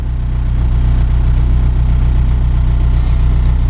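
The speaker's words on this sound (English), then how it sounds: "Just look at how smooth this thing runs. I mean, that idle is just chilling" A turbocharged Honda Civic with a B20 VTEC engine idles on a dyno, a loud, close, smooth and even rumble that holds steady throughout.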